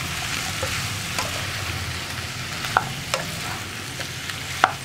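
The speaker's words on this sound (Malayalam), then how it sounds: "നമുക്ക് വഴുതനങ്ങയും കൂടി ചേർത്തിട്ട് നന്നായിട്ട് ഇളക്കി മിക്സ് ചെയ്തെടുക്കാം." Brinjal and potato pieces fry on a low flame for a Kerala mezhukkupuratti, a steady close sizzle with periodic scraping stirs and a couple of sharper spoon clicks against the pan; no speech.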